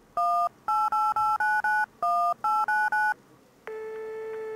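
Touch-tone keypad beeps as a mobile phone number is dialed, about ten short evenly paced DTMF tones in two bursts, followed by a steady ringing tone, clear and close.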